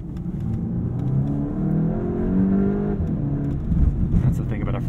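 A 2022 Volkswagen Golf GTI, a front-wheel-drive hot hatchback, pulls hard out of a corner on a downhill road, its engine note rising steadily through the revs, loud and close, with a voice talking over it.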